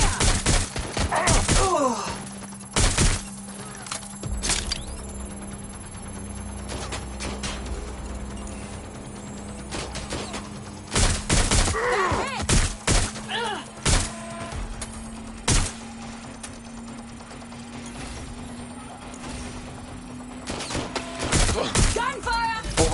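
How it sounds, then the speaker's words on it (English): Gunfire in the video game Watch Dogs: Legion, repeated sharp bursts of shots in irregular clusters over a low steady hum, with a voice speaking between the volleys. "Gunfire!"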